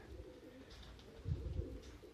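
Mordovian and Perm pigeons coo softly in low, murmuring calls, quiet and somewhat distant against a faint outdoor background.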